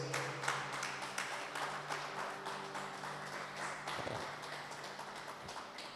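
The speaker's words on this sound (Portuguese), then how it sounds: "vamos dar para o Senhor uma linda salva de palmas" A church congregation gives a sustained round of applause to the Lord, dense steady clapping filling the room at moderate level with a low hum underneath and no one speaking.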